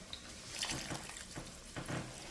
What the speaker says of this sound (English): And then we're also going to add our 4 cups of broth.